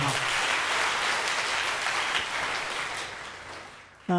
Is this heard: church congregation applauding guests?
yes